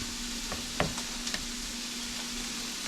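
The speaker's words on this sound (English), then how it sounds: "let me give the meat a quick stir. You can do both things while you're waiting for the sausage to cook" Sausage meat sizzling in a frying pan with a steady, soft crackle, broken by a few sharp scraping knocks as a utensil stirs it.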